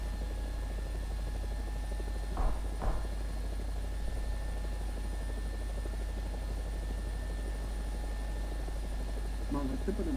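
Helicopter in War Thunder during a night raid over Afghanistan, a steady droning rotor hum running throughout with voices talking over it on radio.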